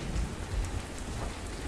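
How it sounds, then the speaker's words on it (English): Steady video game rain pattering on a surface, a continuous broadband wash with a low rumble underneath, no voices. "I'm in the rain"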